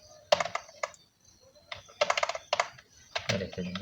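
Code being typed on a computer keyboard during a Python programming lesson: quick bursts of close, crisp key clicks separated by short pauses, with no talking.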